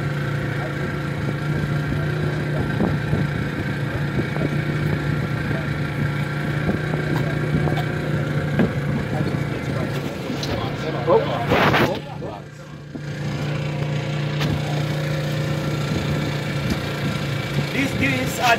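An idling engine on an African pirogue boat hums with a steady low drone throughout, its rumble briefly dipping near the middle, with faint voices in the background, in Lamin Lodge, Gambia.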